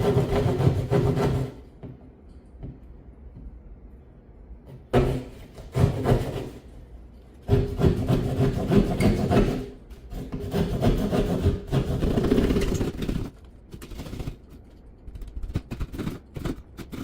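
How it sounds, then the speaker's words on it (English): A drywall saw cuts a hole in drywall for an electrical box, giving scratchy, rasping bursts of back-and-forth strokes separated by short pauses, close and moderately loud. "Let's get that drywall saw up."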